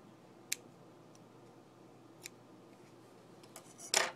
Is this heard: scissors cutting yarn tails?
yes